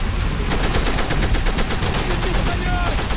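Rapid bursts of machine gun fire rattle loud and continuous through a Call of Duty: World at War battle scene, dense overlapping shots filling the whole span with no spoken words.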